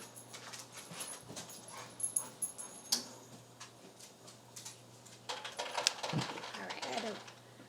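Dogs whimper and whine in a house, mixed with panting and clicking sounds, while a person speaks intermittently nearby.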